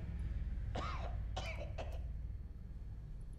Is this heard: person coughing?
yes